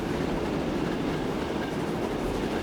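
A train runs in the video game Transport Fever 2, a steady, loud rolling rumble with a rail-car rattle that continues without a break, and no voices.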